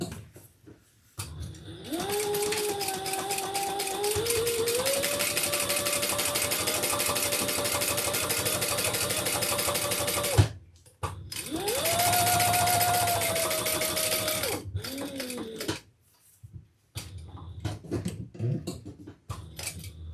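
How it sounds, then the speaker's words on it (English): A sewing machine top-stitching through thick layers of a leather wristlet crossbody bag, running in long steady bursts with pitch rising as it speeds up, broken by short pauses and a final stretch of slower, uneven stitching. "We're going to fold that up and top stitch."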